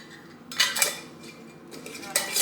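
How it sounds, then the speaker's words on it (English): Glass jar rim being wiped with a vinegar-dampened cloth while canning chicken stock, two short bursts of squeaky rubbing and faint clinks, close and quiet, with no talking. "Wiping the rim with the vinegar cloth that I have."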